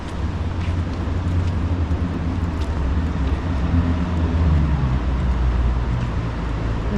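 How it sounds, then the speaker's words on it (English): Steady low roar of traffic from a major highway near Durres, Albania, carrying from a distance across a quiet outdoor area, a continuous broadband rumble that swells slightly without distinct passing vehicles. "There's a major highway right beyond there, so you can hear some traffic from there"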